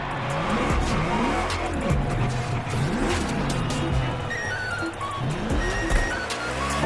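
A drag race car launches with loud, continuous tire squeal and a revving engine that climbs in repeated upshift sweeps, in the racing game The Crew Motorfest.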